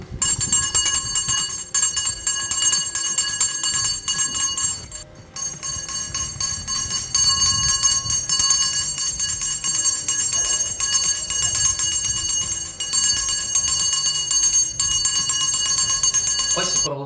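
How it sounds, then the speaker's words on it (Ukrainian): An electric school bell ringing on the first day of the school year, a loud, steady high-pitched metallic ring that continues for many seconds with only a brief break near the start. "пролунало у новому навчальному році чарівна мелодія шкільного дзвоника"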